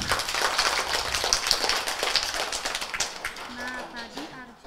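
Applause at a kindergarten children's show fills the room as a dense, busy patter of clapping, fading after a few seconds as an adult voice begins speaking.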